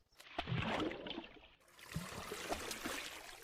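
Rushing, trickling water from the video game Colony Survival, a continuous splashy stream that briefly dips before returning just as strong, with scattered light ticks and no voices.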